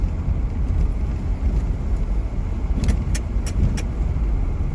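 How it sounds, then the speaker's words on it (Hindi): A Toyota Innova 4x2 climbs a steep, broken mountain road in power mode, a steady engine and road rumble from inside the car, with a few brief metallic rattles and clinks. "पर ये गाड़ी टोयोटा इनोवा हार नहीं मानती कहीं पे भी, चाहे 4x2 हो, कहीं दिक्कत नहीं लगी।"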